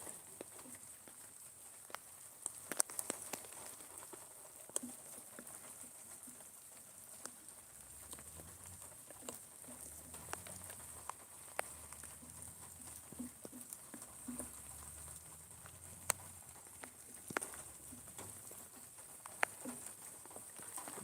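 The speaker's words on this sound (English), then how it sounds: "There's just gonna be rain." Rain after a thunderstorm in southern New Jersey pattering steadily on nearby surfaces, with scattered sharper drips and taps over a faint, even wash, with no voices.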